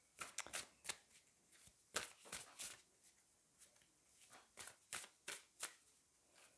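Oracle cards being shuffled by hand before one is drawn: a series of soft riffling bursts in an uneven rhythm, close and quiet, with no talking.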